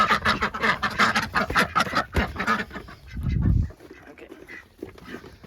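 A flock of ducks quacking busily and repeatedly nearby at feeding time, a dense chatter of calls with a brief low rustle in the middle.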